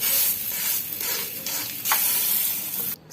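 Bak kwa, a Chinese New Year pork jerky, sizzles loudly in a pan with a bright hissing spatter, swelling in a few surges before cutting off abruptly at the end.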